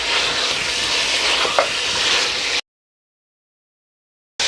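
Mutton sizzles loudly in a cooking pot as chilies go in, a dense close hiss with one brief clink near the middle, cutting off abruptly into silence before resuming briefly at the end.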